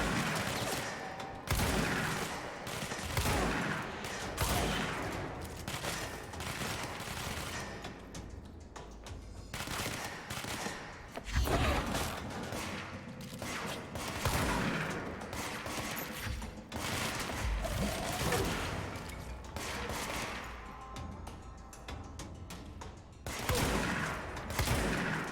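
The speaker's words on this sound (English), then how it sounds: "So it's a hand shotgun." Bursts of heavy gunfire from a hand shotgun in the video game Control, sharp blasts repeating in irregular clusters with short pauses between volleys, loud and close.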